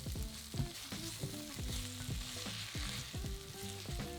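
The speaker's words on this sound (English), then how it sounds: "Add in 2 cloves of minced garlic and a teaspoon of minced ginger and cook for another minute." Minced garlic and ginger frying in a pan, a close crackling sizzle with rhythmic stirring scrapes and clatter, moderately quiet and alone.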